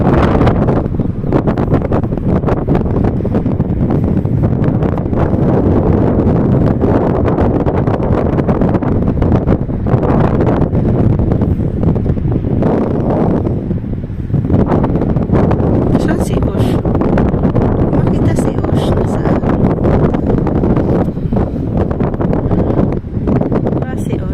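Constant strong wind roars and buffets the microphone throughout, a dense, unbroken rush with occasional gusts.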